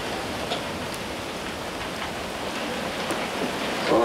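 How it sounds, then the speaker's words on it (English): Light drizzling rain in the New Zealand countryside, falling as a steady soft hiss with faint scattered drops throughout. "Here comes some rain."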